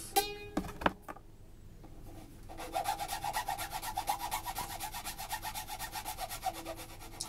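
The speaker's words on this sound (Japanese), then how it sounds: "早くね削ると熱で溶けてくるんですよね" A plastic Flying Tiger ukulele being filed, a quick run of rhythmic rasping strokes close by after a few knocks and a short pause, no talk.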